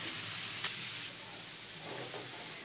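Cut bottle gourd dropped into spices frying in hot oil brings a short sharp sizzle burst, then a softer steady hiss with light clatter from the pan.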